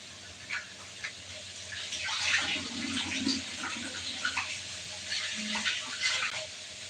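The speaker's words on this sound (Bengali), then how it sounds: "আমি আগে হাতটা ধুয়ে দিই" Running tap water splashing over hands during lunch cooking in a home kitchen, a steady broadband wash with brief louder splashes, heard alone without talk for about seven seconds.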